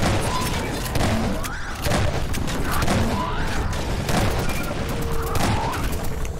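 Rapid bursts of video-game gunfire from Half-Life 2: Episode Two during a strider invasion, loud and sustained throughout with dense, repeated shots, alongside game music and effects.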